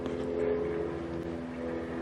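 An OBS Chevy truck engine idles steadily up close, a low, even hum with a constant tonal drone and no speech over it.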